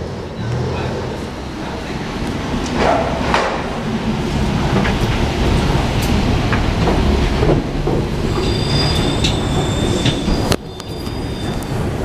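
Paris metro train at Châtelet station, with broadband rumble of the train and high tonal wheel squeals appearing in the latter half, under faint background voices.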